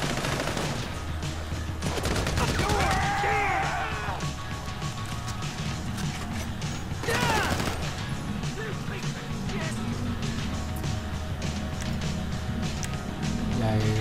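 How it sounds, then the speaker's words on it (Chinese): Gunfire in the game GTA V Online during a desert survival mode, sharp shots and bursts cracking out at intervals beneath steady speech and game background noise. "开枪引佢哋出嚟，因为佢哋听到枪声就会周围走啊"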